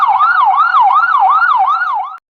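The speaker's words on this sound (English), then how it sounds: "A is for ambulance." An ambulance siren wails in a steady rising-and-falling cycle, about five loud sweeps in two seconds, close and alone with no voices.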